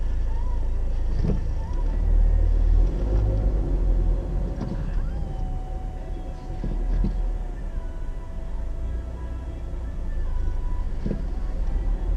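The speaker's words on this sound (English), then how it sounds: "This is normal traffic" Evening road traffic in Tokyo around seven on a Friday night: a steady low rumble of passing cars and engines with occasional swells, fairly distant and continuous throughout, with no talk.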